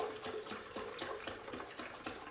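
Liquid pours steadily into a container, a continuous watery splashing and trickling heard up close, alone and without talk.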